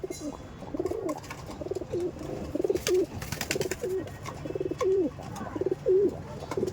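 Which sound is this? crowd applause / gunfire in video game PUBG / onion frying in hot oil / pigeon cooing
pigeon cooing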